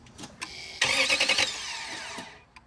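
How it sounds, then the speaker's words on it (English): The starter on a Toyota 4.7 V8 engine, freshly replaced in a Tundra, Sequoia, Land Cruiser or 4Runner, cranks with a close whirring grind that lasts about a second, then dies away. "Starter's working."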